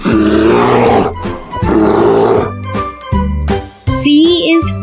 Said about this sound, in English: B is for bear.